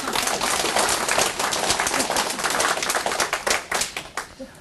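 Audience at a Korean stock-market lecture on moving averages claps in a loose, scattered burst of hand claps that thins toward the end, fairly close and with no speech over it.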